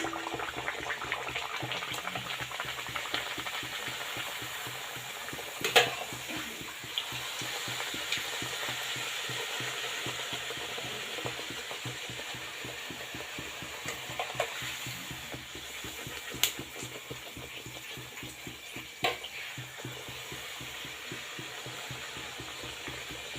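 Beetroot puris bubble and sizzle in hot oil, a continuous frothy fry with a few louder clinks and splashes from the pan, quiet and without speech.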